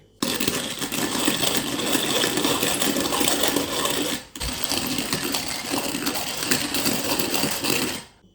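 A manual hand coffee grinder crushing coffee beans, a loud continuous rough grinding rasp that pauses briefly midway and then resumes until near the end.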